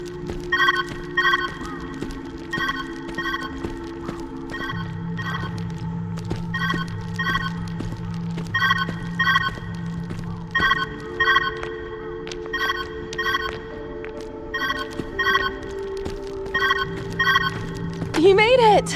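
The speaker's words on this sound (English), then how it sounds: "Where's that ringing coming from?" A repeating telephone ring sounds in regular bursts throughout the Viewfinder video game, the bell-like trills recurring steadily over a layered musical background, with voices talking over it.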